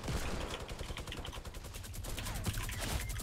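A minigun firing in the game Fortnite, a continuous rapid burst of gunfire with a dense, rattling stream of shots and some heavier thumps, moderately loud throughout without speech.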